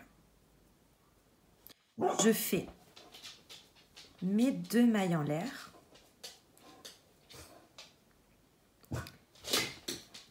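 A dog whimpers and whines in short high bursts while a person speaks calmly nearby.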